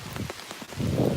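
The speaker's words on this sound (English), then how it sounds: "Oh, it's really starting to rain." Rain begins falling on an old road near Bourglinster, Luxembourg: a brief, soft patter of raindrops swelling into a denser hiss outdoors.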